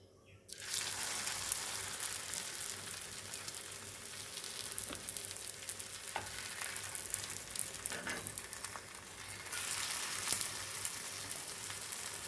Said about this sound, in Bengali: এবার আমি পরোটা দিয়ে দেব তেলের উপরে।